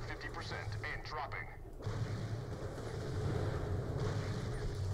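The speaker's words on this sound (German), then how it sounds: "Aber die explodieren immer so schön." Creatures explode in the video game Borderlands The Pre-Sequel, with dull booms and crackling blasts that roll into a steady rumbling din while two players talk over it.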